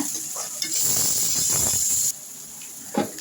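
Steady sizzling of onion and garlic sautéing in a hot pan, with a brief scrape of a utensil and a louder stretch that drops off midway.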